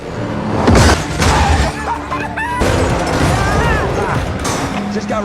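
Explosions in a Fast X action movie scene: heavy booming blasts with shattering debris and crashing impacts, loud and close, layered over dramatic score and brief shouted voices.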